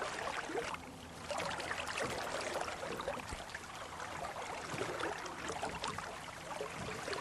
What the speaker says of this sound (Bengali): নৌকা আবার দ্রুত বেগে চলতে লাগলো।